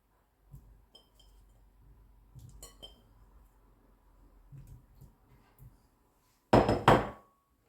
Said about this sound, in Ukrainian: Тепер ставлю каструлю.